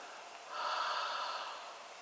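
A single soft, breathy exhale during a stretching session, close and quiet, lasting about a second.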